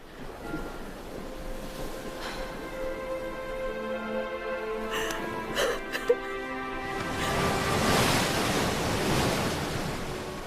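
Wind gusts over surf by the shore, a steady broad rush that swells louder toward the end, with a few brief knocks midway.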